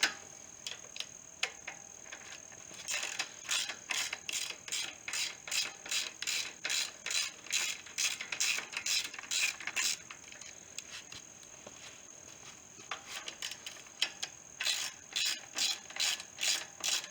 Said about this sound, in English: these are 1/2 inch. That's a 1/2 inch wrench.